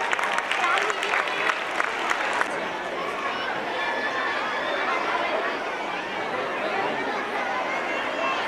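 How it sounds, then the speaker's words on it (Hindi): Audience at an Urdu school's annual gathering program applauds and chatters; dense clapping runs steadily throughout, strongest in the first couple of seconds, blended with crowd murmur and no clear speech. "तलबा के इस्तकबाल के लिए जोरदार तालियां"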